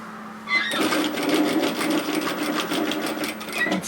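Sewing machine stitching an apron, a steady continuous mechanical whir running loud and close from start to finish after a brief quiet opening.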